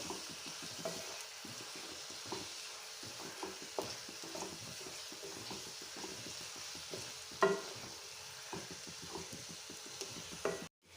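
Prawn roast masala with turmeric is stirred in a pan, with a soft sizzle beneath steady, repeated scraping and stirring strokes close by and no voices.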